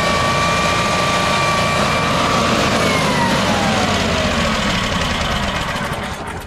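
A Generac generator engine runs on LP gas, holding a loud, steady drone with a faint whine that drifts downward, continuous for the whole stretch with no voices.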